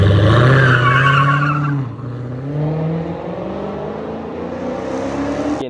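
A 2022 Dodge Challenger SRT Hellcat launches at full acceleration, its engine roaring loudly with tire squeal at the start, then settling into a rising, sustained whine as it pulls away.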